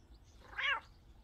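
A cat in the video game Cafe Owner Simulator gives a single short meow, clear and brief against a quiet background, with no talking over it.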